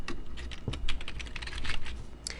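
Fast, steady typing on a computer keyboard while entering a username and password, with dense clicking keystrokes running continuously and up close.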